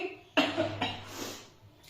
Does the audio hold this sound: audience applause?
no